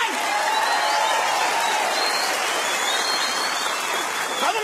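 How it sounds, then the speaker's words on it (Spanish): A comedy show audience breaks into sustained applause, a dense, even wash of clapping from a large crowd with a few cheers mixed in, loud and continuous throughout. "Un aplauso para las mujeres colombianas"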